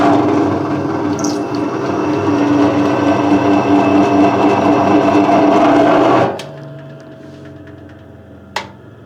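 A vintage wheel balancer whirs steadily as it spins a Citroën AZU tire, a loud, continuous mechanical hum with a faint rhythmic rattle that cuts off abruptly and is followed by a single sharp click.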